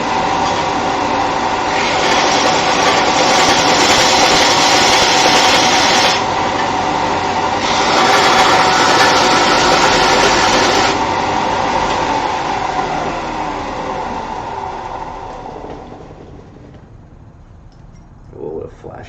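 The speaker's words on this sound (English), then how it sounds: "So I just have to bump up the belt sander and I think it'll fit." A belt sander grinds metal in a loud, continuous rasping roar that surges twice, then trails off quietly before a few brief knocks at the end.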